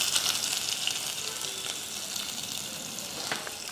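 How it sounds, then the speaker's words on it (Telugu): Onion pieces dropped into oil with frying whole spices for an aloo beans masala curry, a steady bright sizzle filling the whole stretch, close and fairly loud with small crackles and a faint stir near the end. "ఇది వేగుతుండగా ఒక ఉల్లిపాయ ముక్కలు వేసేద్దాం ఇందులో."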